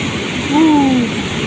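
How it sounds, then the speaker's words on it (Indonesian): Waterfall roaring steadily beside the Semeru cold lava flow during a swelling flood, a dense continuous rush of water filling the scene with a brief tonal sweep passing over it midway. "Di sebelah kita ini ada air terjun juga."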